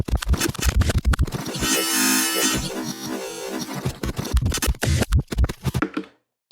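Glitchy stuttering texture made by slow time scrubbing in the Harmor synth, with choppy chunks of sound, smeared warbling passages and scratch-like jolts that stop abruptly before the end.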